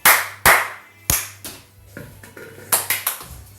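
Sharp hand claps from a small group, several loud separate bursts followed by a quicker ragged run of claps, close by with a low steady hum underneath.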